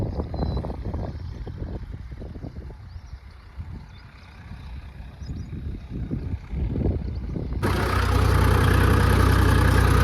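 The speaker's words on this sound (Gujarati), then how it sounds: "તો અહીંયા કને ટ્રેક્ટર ચાલેરો છે, જોવો ચાલેરો તવિયામાં હેડે છે।" A tractor engine runs on a farm, its mid-pitched idle steady under gusting wind noise, then growing louder and fuller near the end as the machine comes closer.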